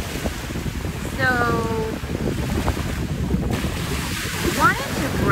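Ocean surf and wind on a beach at Anna Maria Island at sunset, a continuous wash of waves with heavy wind buffeting the microphone, and faint brief tonal sounds drifting over the roar.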